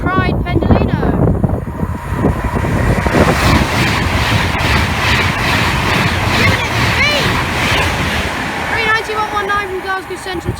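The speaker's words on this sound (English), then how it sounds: "And we have a Class 390 passing by now. It's the Pride Pendolino." A Class 390 Pendolino electric train rushes past on the West Coast Main Line at Cheddington, a loud, continuous roar with rising and falling rail noise and a whining tone toward the end, buffeted by wind.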